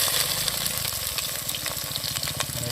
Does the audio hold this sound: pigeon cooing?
no